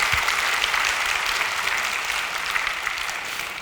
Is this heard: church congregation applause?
yes